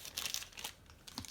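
Miniature packaging being cut open with scissors: quiet, close crinkling and snipping of plastic in a few short bursts.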